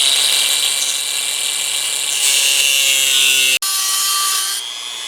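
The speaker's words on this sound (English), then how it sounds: "I'm also going to cut these screws here just to make the plate easier to put on and off." A high-pitched cutting tool grinds steadily through screws on a metal plate during an LS engine swap, loud and close, with a brief break near the end before it resumes and tapers off.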